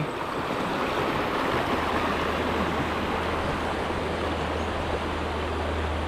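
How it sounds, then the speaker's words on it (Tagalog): Continuous rushing water of the Alitao River, loud and close, a steady broadband roar with a low hum entering partway through. "Ito po ay Alitao River."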